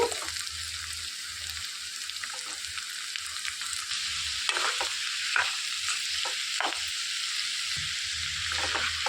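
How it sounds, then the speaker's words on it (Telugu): Thinly chopped cucumber pieces go into a simmering Andhra-style cucumber and drumstick curry, a constant close sizzle with scattered stirring scrapes and a faint wet bubbling underneath. "ఇందులోనికి సన్నగా తరిగి పెట్టుకున్న దోసకాయ ముక్కలు కూడా వేసేసుకోవాలండి"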